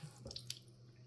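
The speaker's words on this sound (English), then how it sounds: "So I'm just going to clean up the egg. And do a little rinse off on it." An egg is rinsed clean under a faucet, making a brief, faint splash and dribble of running water over about a second.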